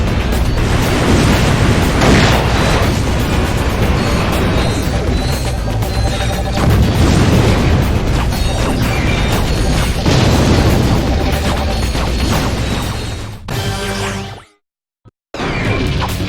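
Ratchet & Clank video game combat with loud, dense crashes, booms and whooshing blasts running continuously for about thirteen seconds, then a brief drop to near silence before the action resumes.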